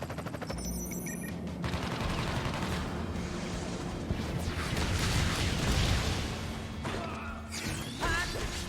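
An Airstrike attack in the video game Crisis Core: Final Fantasy VII Reunion: a dense barrage of rapid gunfire-like bursts, crashing impacts and whooshes rolls on loudly for several seconds.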